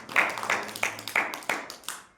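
Slow hand claps, about six sharp separate smacks spaced roughly a third of a second apart, close and moderately loud with nothing else over them.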